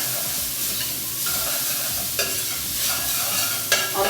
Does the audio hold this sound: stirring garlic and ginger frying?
yes